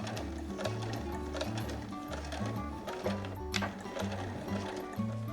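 Sewing machine stitching a fabric pochette, its needle hammering in quick regular bursts with short pauses between runs, close and clear with faint background noise.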